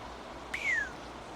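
A single short rising chirp alert from the air traffic control game Tower! 3D Pro, a clear bright tone sliding downward, heard alone over a low steady background hum.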